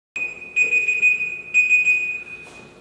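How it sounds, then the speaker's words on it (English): A kitchen timer alarm rings in steady high-pitched electronic beeps, a sustained tone pulsing in repeated bursts at moderate loudness, clear and close with no talking. "The alarm just went off."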